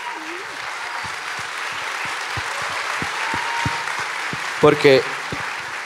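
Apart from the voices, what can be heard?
audience applauding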